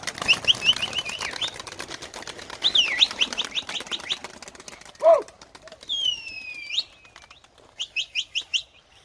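Pigeons in a loft in Ankara take flight with repeated bursts of rapid wing flapping, close and clear, mixed with chirps and tweets and one brief louder call in the middle.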